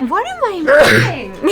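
A single sharp sneeze bursts out mid-conversation, loud and close, with people talking just before and after it.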